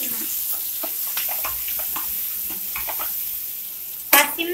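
A ground paste is stirred into dried red chillies and curry leaves frying in a pan for a cucumber and raw mango chutney. It gives a steady close sizzle with scraping stirs, and a louder crackling burst comes near the end.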